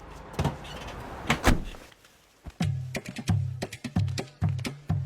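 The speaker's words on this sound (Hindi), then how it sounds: "तुम बाहर से दरवाजा बंद कर दो" Several sharp door thunks, some in quick succession, close and loud, as a door is shut from outside; no voices.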